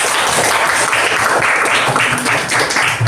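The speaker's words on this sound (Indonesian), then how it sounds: "Tepuk tangan untuk piket pada hari ini." A class of schoolchildren applauds the day's cleaning-duty pupils with dense, continuous clapping that stays loud and close for the whole stretch.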